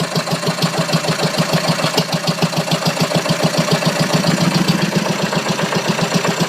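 An old engine runs close and loud, idling with a steady, rhythmic chugging beat that picks up into a slightly faster pulse partway through, with no talking.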